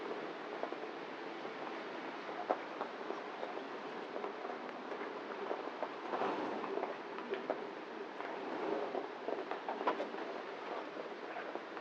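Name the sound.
heavy rain on a street in Vietnam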